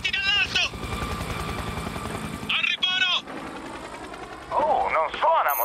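A helicopter in the video game Spec Ops: The Line chops and whirs steadily beneath game music and someone talking, with bursts of voice and sound effects over the rotor drone.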